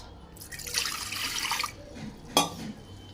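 Rinse water is tipped out of a cooking pot in a home kitchen after chilli-spiced ingredients are washed. A short rushing splash runs for about a second, then a brief sharp clatter follows, with no talk.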